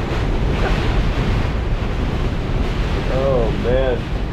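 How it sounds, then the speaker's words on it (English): A strong gust of storm-force wind roars steadily and loudly against the microphone, a broad rushing noise with faint whistling tones near the end. "Look at this gust."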